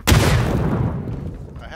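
A grenade explodes in the PUBG battle royale game: one sharp, loud blast near the start, followed by a rumbling decay that fades over the next second and a half.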